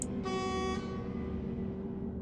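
A loud bus horn blast in a driving video game lasts about half a second over a low steady engine rumble, which carries on after the horn stops.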